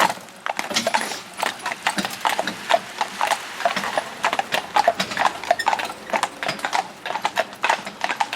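A horse walks with steady, crisp clip-clopping hooves close by, the rhythmic footfalls continuing throughout without talk.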